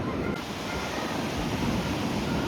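Ocean surf on a Moroccan beach at a surf spot, a steady loud roar of breaking waves and wash mixed with wind noise on the microphone, with no talk.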